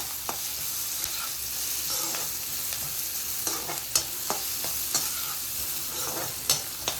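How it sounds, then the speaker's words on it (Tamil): Onions and green chillies sautéing in a pan, a continuous bright sizzle broken by repeated sharp clicks and scrapes of a spoon stirring against the pan, no voices. "வெங்காயம் நல்லா வதங்கணும்."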